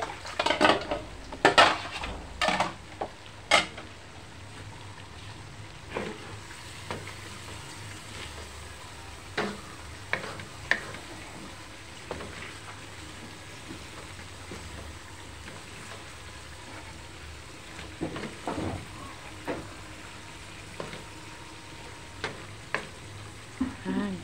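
Tinapa, smoked fish, frying in a pan with a steady low sizzle, broken by sharp utensil clacks and taps against the pan that come in bunches early on and then at scattered intervals.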